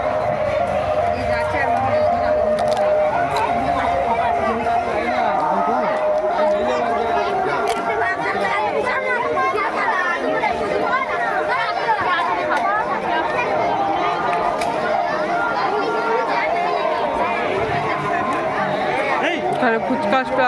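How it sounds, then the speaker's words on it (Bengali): Dense crowd chatter and hubbub at a night Shivaratri fair, a steady babble of many voices with footsteps and stall noise, continuous and fairly loud throughout. "এদিকটাও প্রচুর ভিড় হয়েছে"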